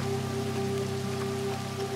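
Rain falling in the Red Dead Redemption 2 video game, a steady, dense patter over a low hum, with no talk.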